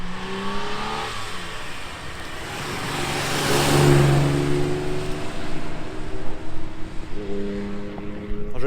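Vintage Ferrari 250 race car engine roaring past during the Tour Auto classic rally, a loud revving rise that peaks mid-clip with a Doppler-like sweep, followed by another engine accelerating nearby.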